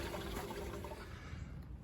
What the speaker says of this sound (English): I got the black and gray tank both flushed out